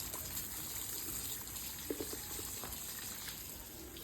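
Water splashes and trickles steadily outdoors, faint and continuous, with a few soft knocks partway through.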